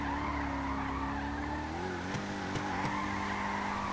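A car spins donuts in a police video game, its engine droning steadily while tires squeal and skid, the pitch shifting partway through with a few sharp chirps.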